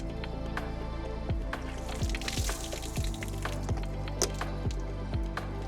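Clean, non-potable water flushes out of an RV hose at a dump station, giving a steady close rush with wet splashing and a series of drips and squishy gurgles.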